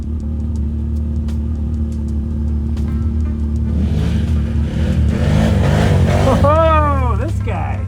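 An ATV engine revs under a heavy steady drone as the quad wheelies up a muddy hill, climbing to a loud rising surge of throttle near the end, with wheel and mud noise layered in.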